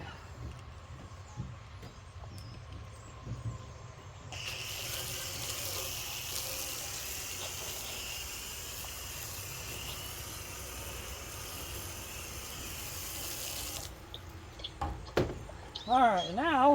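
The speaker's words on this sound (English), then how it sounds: "Now we're going to rinse it off." Water spraying to rinse a 1964-65 Chevelle SS bumper, a steady hiss of about ten seconds at moderate level, followed by brief clatter and a voice.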